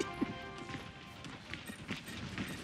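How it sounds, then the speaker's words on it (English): Footsteps of an approaching enemy in Overwatch patter quickly and faintly amid game noise and effects, with players talking over them. "I hear footsteps."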